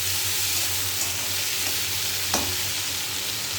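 Food fries in a pan with a steady, loud sizzle, and a couple of brief scrapes of stirring stand out near the middle. No one speaks.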